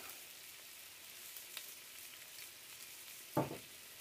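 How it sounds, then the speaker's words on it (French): Chicken drumsticks browning in a pan over moderate heat for a Provençal spelt paella, giving a steady low sizzle throughout with one brief louder clatter or stir near the end. "on va bien les faire revenir en mettant le feu pas trop fort"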